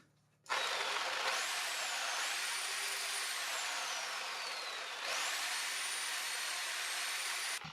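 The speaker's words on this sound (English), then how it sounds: "Next, I tried this reciprocating saw." A corded reciprocating saw draws 10 amps at 120 volts from a LiFePO4 battery solar power station inverter, its steady loud motor whine starting abruptly and running continuously, dipping briefly midway before surging back up.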